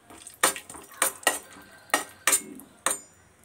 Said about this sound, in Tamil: முந்திரியே வறுத்து எடுத்துக்கலாம்.